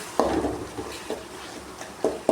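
Sliced Ballari onions sautéing in oil in a pan for an onion gravy, with a soft sizzle under several distinct spoon-against-pan stirring knocks spread across a short stretch.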